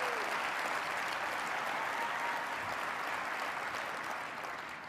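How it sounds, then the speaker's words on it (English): Sustained audience applause at a SolidWorks World conference session, a dense, even wash of clapping that tapers slightly at the end. "Big round of applause to Dot Decimal."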